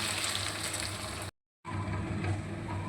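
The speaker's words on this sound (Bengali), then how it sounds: "এরপরে আমরা গরম জল অ্যাড করে দেব" Chicken curry frying in a pan gives a loud, steady sizzle and hiss as hot water goes in, broken by a brief gap of silence before the sizzling resumes.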